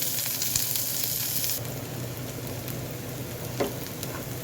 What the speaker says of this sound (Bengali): রসুন আর কাঁচামরিচ আর একটু পেঁয়াজ ভেজে নেবে